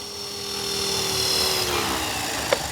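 A Blade S330 RC helicopter flies on a 2200 mAh 3S 50C battery pack, its electric motor giving a steady, fairly loud whine with a faint tonal pitch that slowly drifts lower, ending in a brief click.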